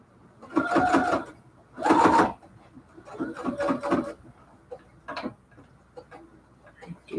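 A sewing machine stitches in short bursts of rapid mechanical ticking while backstitching the corners of a cathedral window quilt pillow case, with pauses and a few light clicks between the runs.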